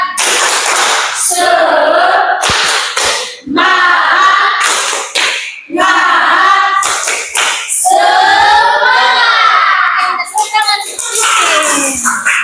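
Classroom of students doing a rhythmic "tepuk semangat" clap during an ice-breaking session, bursts of patterned clapping mixed with voices and chanting, loud and close throughout.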